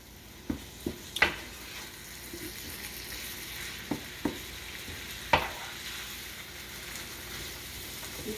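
Ground beef browning in a pan for a hamburger potato casserole, a soft steady sizzle throughout with a few sharp scrapes and taps of a utensil stirring, fairly quiet and close.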